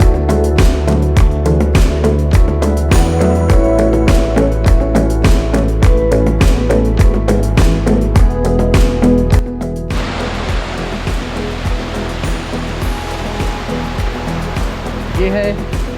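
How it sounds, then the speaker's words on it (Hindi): Waterfall near Kullu in Himachal, a steady broadband rush of falling water that stays loud throughout, with tonal music-like layers in the first part before easing slightly. "ये है वाटरफॉल राइसन जो कि कुल्लू से आगे है।"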